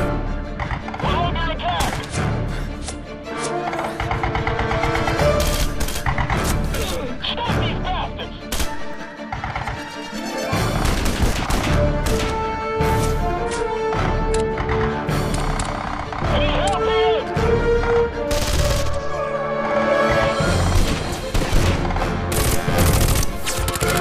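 Soldiers fire guns in the open-world game Red Faction: Guerrilla, loud rapid bursts and sharp shots packed into a dense, continuous barrage of game music and effects, with voices talking over the noise.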